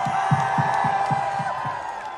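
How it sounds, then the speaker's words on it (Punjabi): Crowd at a live Punjabi celebrity fan event with Ammy Virk and Vicky Kaushal, a rhythmic beat of steady claps under a continuous roar of cheering and whoops, with voices mixed into the din. "ਇੱਕ ਵਾਰੀ ਤਾਂ ਨੂੰ ਹੱਥ ਚੱਕ ਕੇ ਤਾੜੀਆਂ ਲਾ ਲਓ"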